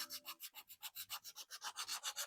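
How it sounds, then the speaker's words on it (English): A sanding block rubs along the edge of a handmade wooden Christmas ornament in about a dozen steady back-and-forth strokes, close and even-paced, with no voices. "finish shaping this up with our sanding block"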